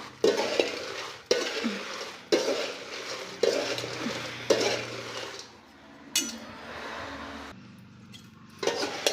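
Chillies stir-fried in a pan with a little oil, giving a steady sizzle broken by repeated scraping and stirring strokes of a spoon against the pan, close and fairly loud, with no talk.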